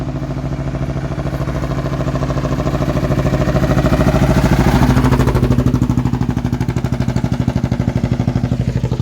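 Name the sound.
Thai road traffic and motorbike engines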